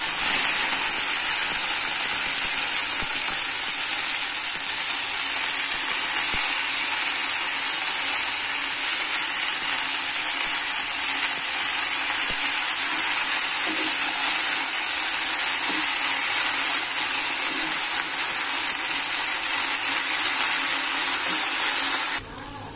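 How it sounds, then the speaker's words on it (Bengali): Water spinach frying in oil with dried chilli and chopped onion: a steady, loud, unbroken sizzling hiss that runs on without pause, ending abruptly. "কলমি শাকটা ভাজবো, তার জন্য একটু শুকনো লঙ্কা তেলে দিয়েছি, আর একটু পেঁয়াজ কুচানো দিয়েছি"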